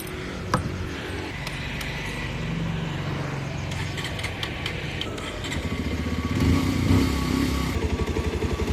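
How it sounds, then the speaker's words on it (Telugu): A Bajaj Pulsar 125 motorcycle engine runs steadily close by with a continuous mid-pitched rumble, swelling slightly louder toward the end as it is revved. "ఫస్ట్ అయితే బైక్ అయితే స్టార్ట్ చేసి చూపించాలి కదా"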